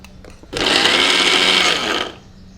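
A mixer grinder whirs loudly while grinding ragi, flaxseed and jaggery, starting abruptly, holding a high steady motor whine for about a second and a half, then cutting off, with faint background sounds before and after.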